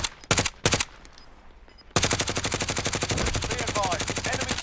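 Rapid automatic gunfire in a video game, aimed at an enemy helicopter: a few separate loud bursts at first, then a long, dense, continuous stream of shots.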